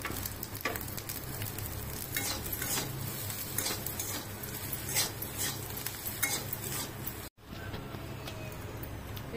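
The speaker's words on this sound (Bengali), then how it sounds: "বেরেস্তাটা এবার দিয়ে দেবো এর মধ্যে।" Fried onion birista is stirred into a pan with a utensil, giving a steady soft sizzle and scraping under scattered clinks, with a brief dropout near the end.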